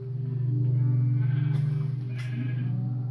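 Sheep in Minecraft bleat a couple of times, a wavering nasal call close by, over a steady low hum of game background sound.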